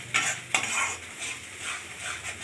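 Salted mutton pieces sizzle in a pan while a spoon stirs them, with two sharp scrapes near the start over a steady, soft frying hiss.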